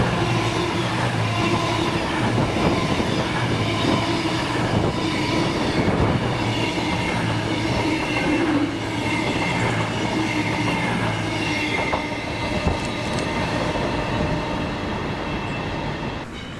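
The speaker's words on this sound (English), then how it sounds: "This is 9S70, the 1809 Demand West Coast service to Edinburgh from London Euston with 221 108 and 221 104" Two coupled Class 221 diesel passenger units pass through Slateford on a West Coast service to Edinburgh, a loud continuous roar of engines and rolling wheels with faint squeal, sustained close by for the whole stretch.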